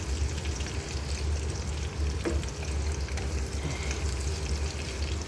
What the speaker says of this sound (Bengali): এই যে মিষ্টি কুমড়ার চাক ভাজি চলতে আছে